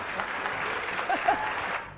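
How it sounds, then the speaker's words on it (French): Studio audience applause on a French television entertainment show, a short steady burst of clapping from the crowd, fairly loud and continuous, with a faint voice or two underneath. "Allez, applaudissements pour Roxane et Perrine."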